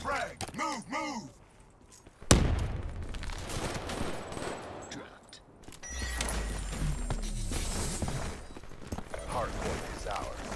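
A frag grenade blasts in a first-person video game shooter during a hardpoint match, a sudden loud burst followed by sustained gunfire and rumbling chaos, with shouted voice lines before and during the action.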